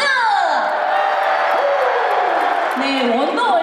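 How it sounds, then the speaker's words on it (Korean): Concert audience at the Woori Bank Wonder Stage in Seoul's Olympic Gymnastics Arena claps and cheers, a loud, sustained crowd roar with high-pitched screams and whoops rising over the clapping throughout. "박수!"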